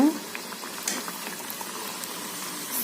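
Vadas cook gently in a pan over a low flame, giving a soft, even bubbling hiss with faint scattered pops and a light clatter at the start.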